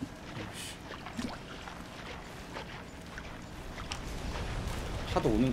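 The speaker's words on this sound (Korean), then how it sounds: "파도 오는 거 봐." Ocean waves washing ashore in the Don't Starve video game: a soft, continuous watery rush with a faint windy edge, fairly quiet throughout and building slightly toward the end, where a voice briefly cuts in.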